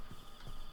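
Horses clip-clopping in the Minecraft video game, a few soft hoof clops at a slow walking pace, faint and distant under steady background ambience.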